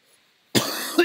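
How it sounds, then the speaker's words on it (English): A single sharp cough bursts out close to the mic after near silence, followed by a brief second catch of breath. "pardon me, I got a cough"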